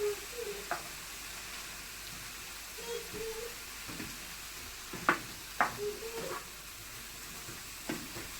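Peas and carrots frying in a pan for prawn fried rice give a steady, soft sizzle throughout, broken by occasional scraping and tapping knocks from stirring, close and fairly quiet.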